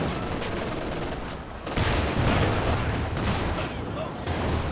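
Double anti-tank guns firing in the video game Company of Heroes 2. Loud, dense booms and gunfire overlap into a continuous roar of battle, with someone speaking over it.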